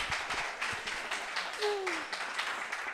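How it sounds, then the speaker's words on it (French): Scattered applause from an audience at a course-completion certificate ceremony, with a thin, distant patter of claps under faint crowd noise and a brief voice in the middle. "j'aimerais que vous fassiez encore un tonnerre d'acclamations, d'applaudissements pour la circonstance"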